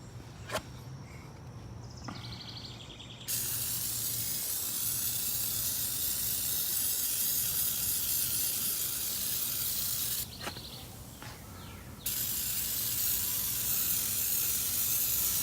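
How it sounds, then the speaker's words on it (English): Sustained spray hiss from an aerosol can of oven cleaner sprayed on wheels, starting after a few clicks and running steadily for several seconds, pausing briefly, then resuming loudly and close. "I'm going to spray this on here."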